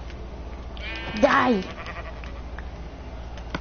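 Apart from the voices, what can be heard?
sheep bleating in video game Minecraft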